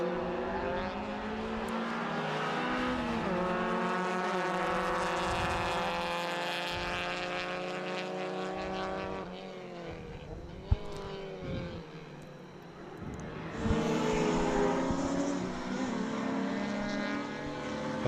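Race cars on track at Winton Motor Raceway in a Victorian Super Tin Tops race. Several engines whine and rise in pitch as they pass, loud and continuous, with a drop and a fresh surge toward the end.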